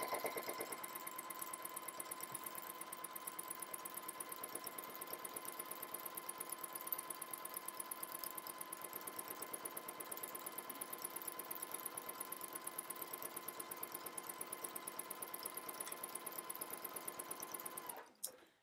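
Sewing machine running fast with an edge stitch foot and guide along a dress skirt seam, a rapid, even mechanical chatter held steadily for a long stretch before stopping, quiet and close, no talking.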